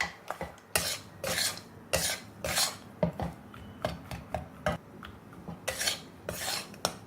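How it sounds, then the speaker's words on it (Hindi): Peanuts roasting in a pan for churan: a spoon scrapes and stirs against the metal in quick repeated strokes, close and fairly quiet, with uneven rhythm and no talking. "अब हम इसमें मिला देंगे मूंगफली, और मूंगफली को भी हम थोड़ी देर के लिए भून लेंगे"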